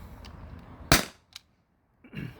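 A T4E HDP50 CO2 pistol fires one sharp, loud pop close by, followed by a short metallic tick and a softer clatter near the end, fired during chronograph testing.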